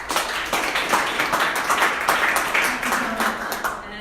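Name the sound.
audience applause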